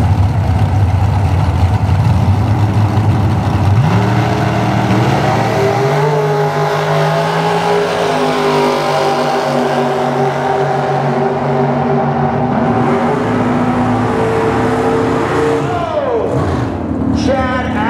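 Drag racing car running down the strip, a loud sustained engine roar with rising and falling pitch as it passes, commentary audible over the noise.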